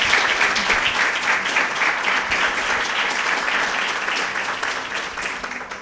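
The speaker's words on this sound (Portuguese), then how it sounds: "Uma enorme salva de palmas às nossas professoras cá presentes e a todas as que visitam" An audience in a hall applauds its teachers at a Women's Day gala in Lajes; dense, steady clapping from many hands fills the room without pause and stays loud throughout.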